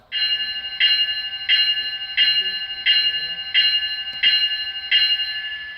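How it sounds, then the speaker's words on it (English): An Athearn SD60E model locomotive's LokSound 4.0 decoder plays the SD60E M2 bell, ringing in a steady, even rhythm, about eight strikes, each ringing briefly before the next. "That's the SD60E M2 bell."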